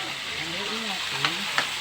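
Chicken adobo with garlic and onion sizzles in a pan as it is stirred, a continuous close frying hiss with two brief scrape clicks and a faint voice murmuring underneath.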